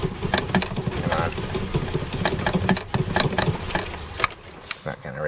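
A cold engine idles roughly right after a hard start, a steady mechanical rattle that runs through the whole stretch, with a voice talking over it.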